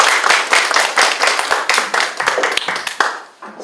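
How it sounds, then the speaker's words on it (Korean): An audience at a book concert claps for a cellist, a loud, close burst of many hands with distinct individual claps, tapering off toward the end. "첼리스트에게 또 박수 한번 주시죠."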